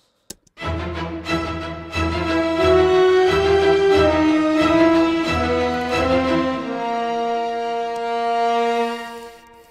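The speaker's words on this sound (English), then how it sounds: "So brass along with the strings sounds like this." Sustained brass chords swell over a bed of strings, building through a few shifting harmonies before fading out on a long held chord.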